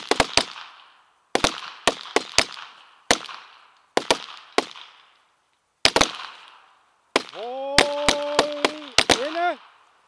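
Rapid .22 caliber pistol fire at an outdoor shooting range: about a dozen sharp, close cracks in short bursts and doubles, separated by brief pauses, with a steady tone sounding beneath the final volley.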